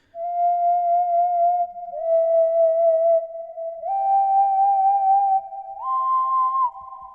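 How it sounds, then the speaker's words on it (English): A pure, whistle-like synthesized tone holds steady notes, stepping up in pitch a few times across a slow melodic line, clean and alone. "We even had a whistling synthesizer."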